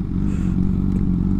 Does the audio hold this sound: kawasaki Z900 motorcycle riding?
yes